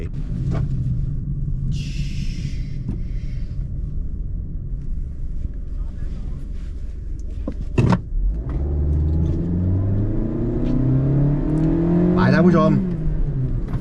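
A 2023 Mazda2 hatchback runs a gymkhana handling course, its engine rumbling steadily close by, rising in pitch as it accelerates and then settling back, with wind buffeting and people talking throughout.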